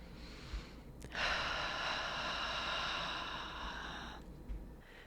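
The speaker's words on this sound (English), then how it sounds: "go ahead and close your eyes and take some nice deep breaths with me" One long, slow, deep breath is heard close up, drawn in and released over a few seconds against a quiet background.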